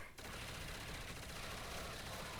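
Rapid gunfire from the Wunderwaffe in a Call of Duty zombies custom map, a dense burst of crackling shots filling the whole stretch, loud and continuous.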